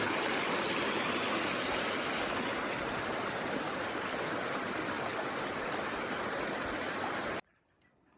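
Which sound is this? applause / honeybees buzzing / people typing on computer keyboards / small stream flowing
small stream flowing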